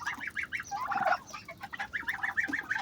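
Turkeys and geese kept for sale gobble and cluck in rapid repeated bursts, close and lively, with several calls overlapping and no talk.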